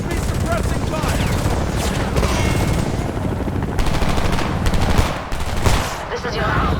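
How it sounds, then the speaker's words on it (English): Rifle fire from the video game Homefront keeps up a dense, loud, steady clatter of rapid bursts, with one or two sharper shots standing out. "Give me suppressing fire."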